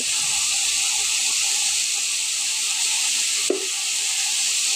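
Lentils (dal) newly added to a hot pan sizzle loudly in a steady, close wash of frying hiss, with a single brief clink of a utensil partway through.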